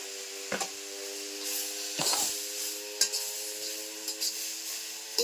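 Cashews and tomatoes fry in a pan with a soft continuous sizzle, broken by several clinks and scrapes of a spoon stirring against the metal at irregular intervals.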